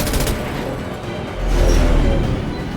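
Gunfire bursts in the video game Mass Effect 2, a short rattling volley followed by a deep low boom, loud and close.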